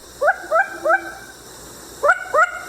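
Long-eared owl giving its alarm call, a short yappy bark like a small dog's, repeated five times in two quick groups, fairly close and clear against a quiet background.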